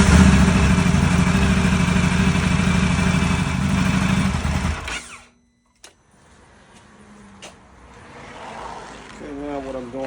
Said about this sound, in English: And now I have to start the engine